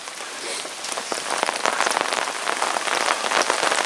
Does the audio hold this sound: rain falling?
yes